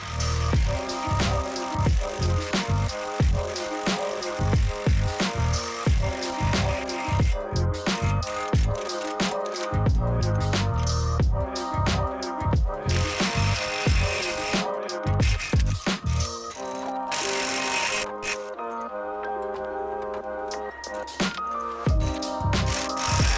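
Impact tool driving an ARP wheel stud into a Subaru WRX/STI front hub using an adapter and an old lug nut: a long loud burst of rapid rattling hammer blows, continuous and close, with brief pauses.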